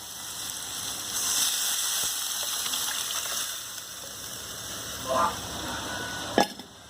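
Liquid goat blood is poured into frying onions in a pan, a soft gushing splash and bubbling hiss near the end after a low steady sizzle, closing with a sharp clatter of a utensil.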